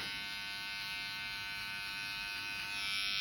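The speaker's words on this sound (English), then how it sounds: "grab your trimmer, and you always attack this bottom line and kind of just flick up" An electric hair trimmer buzzes steadily as it cuts along the bottom hairline during a haircut, a close, continuous high-pitched whine that rises slightly at the end.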